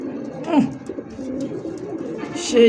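A pink-beaked Rasgolla pigeon coos up close in low, throaty rolling calls, with a louder burst near the start and another at the end.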